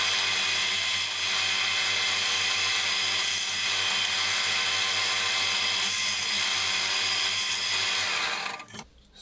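A drill bores 5 mm holes while an old Tormek is being upgraded with a Blackstone SB 250, giving a steady, loud, high whine that runs continuously and then cuts off abruptly near the end.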